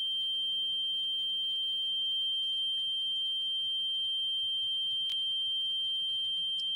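A REM pod ghost-hunting device sounds a steady, shrill electronic alarm tone at night in a haunted cemetery, continuous throughout with a faint low hum beneath and no talking.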